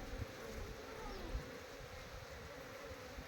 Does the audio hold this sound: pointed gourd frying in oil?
no